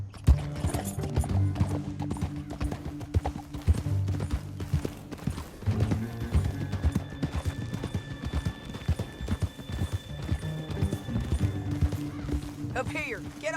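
Horse hooves clip-clop at a riding pace through a rocky canyon in Red Dead Redemption 2, a steady rhythmic patter beneath a continuous music score, with occasional voices talking over it and a brief whinny.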